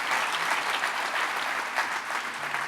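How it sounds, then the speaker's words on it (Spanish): A church congregation at a Spanish-language devotional service claps for the Lord, a dense, steady wash of applause sustained throughout without a break. "denle otro aplauso al Señor si desea hacerlo"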